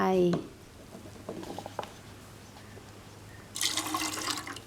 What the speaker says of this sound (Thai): นี่ นะคะเอ็มใส่ลงไป